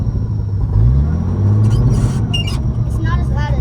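An old short-bed pickup truck engine cranks and fires up, then runs at a low rumbling idle close by while people talk over it.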